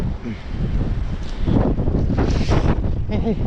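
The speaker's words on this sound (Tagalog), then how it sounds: "Grabing hangin naman yun." Strong, cold wind buffeting a small boat near mangroves, a loud continuous roar against the microphone with water sloshing underneath and brief voices partly masked.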